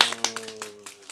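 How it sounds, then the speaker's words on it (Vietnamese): A few children clap their hands in a brief, uneven burst of sharp claps, close by, with a faint tone lingering underneath. "Vỗ tay cái ơi."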